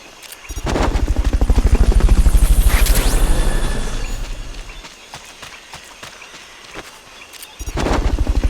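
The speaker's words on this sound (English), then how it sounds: "Fulton recovery helicopter is complete." Fulton recovery helicopter in the video game Metal Gear Solid Peace Walker: loud, rapid rotor thumping that swells and fades, with whooshing sweeps and a brief lull before the rotor beat returns strongly at the end.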